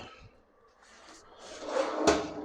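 A toolbox drawer slides and bumps shut with a short clatter of metal and contents, a few scraping movements building to one louder knock near the end, close by with no talk.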